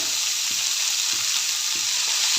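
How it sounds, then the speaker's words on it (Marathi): Garlic cloves fry in hot oil for dhaba-style lasooni methi, giving a loud, even, continuous sizzle heard close up with faint periodic stirring taps and no voices. "लसूण थोडासा एक ते दोन मिनटं तळू देऊया"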